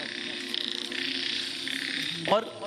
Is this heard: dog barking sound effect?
no